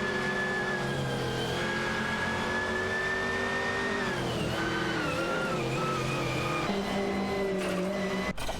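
Race cars in an AI racing video game scream past with high-pitched revving engines, sustained and loud, their pitch shifting as the cars shift gear and change speed, with tire squeal among the engine drone.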